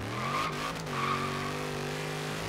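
A 1969 Dodge Charger Daytona Hemi in a racing video game, engine droning steadily at high revs with quick pitch drops as it shifts up through short gears, tires faintly squealing.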